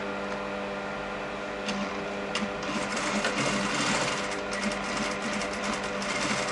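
A sewing machine stitches a shirt collar in a continuous, even mechanical whir with a rapid ticking rhythm, running steadily and close by throughout.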